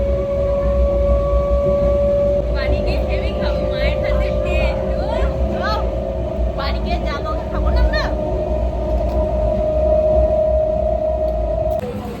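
A train rumbles along steadily with a low mechanical drone and a sustained hum, as people talk over the noise.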